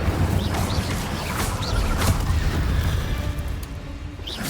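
Incendio fire spell cast during combat in Hogwarts Legacy, a continuous roaring, crackling blast with dull booms and sharp pops running throughout at steady loudness.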